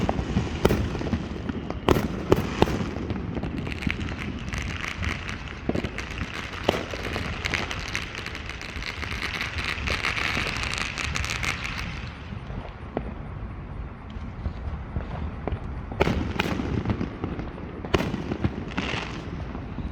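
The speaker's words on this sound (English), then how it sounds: "These fireworks are gonna be going off all night." July 4th fireworks in Katy, Texas crackle and boom continuously, with sharp individual bangs and dense popping over a steady distant rumble, heard from a neighborhood over a long stretch.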